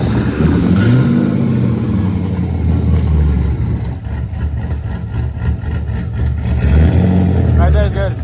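A Nissan S13 with a newly fitted exhaust runs close by with a loud, rough engine drone, rising and falling revs and a burbling idle between, while people talk over it.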